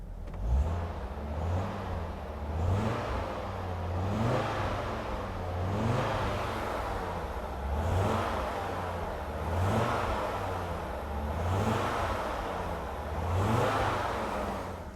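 An Audi Coupe's five-cylinder engine idles and is revved repeatedly, heard from outside the car, with a rising and falling rev about every two seconds over a steady engine hum.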